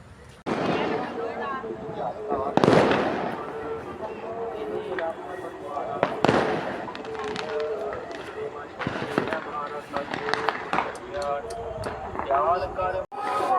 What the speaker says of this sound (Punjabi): ਲੈ ਵੀ ਸ਼ੁਰਲੀ ਚੱਲੀ